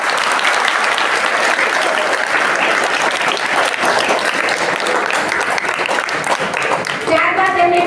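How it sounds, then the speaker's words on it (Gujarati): Students at V.C. Gurukul school in Ghatkopar applaud a gold medal winner, thick continuous clapping from a large group filling the room, loud and even, ending with a brief voice as it fades. "તો એકવાર એમના માટે તાળી થઈ છે"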